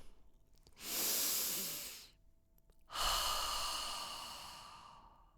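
A person takes a slow deep breath in, pauses briefly, then lets out a long breathy exhale, close and fairly soft with nothing else around it.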